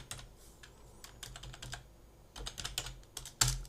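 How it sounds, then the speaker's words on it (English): Bursts of typing on a computer keyboard during 3D software work, clusters of crisp close key clicks separated by short pauses, ending in a louder keystroke, with no talk. "So press tab and type mountain."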